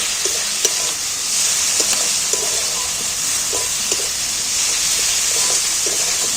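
Ginger-garlic spice paste sizzles steadily in a hot pan while being stirred, a constant bright frying hiss broken by soft scraping taps of the spoon at irregular intervals.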